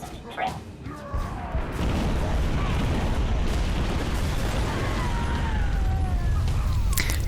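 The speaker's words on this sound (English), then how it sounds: "That's a nice explosion." A big explosion in the Halo 3 ODST video game: a sharp crash and boom followed by a sustained, loud rumbling roar with debris crackle that stays dense and steady to the end.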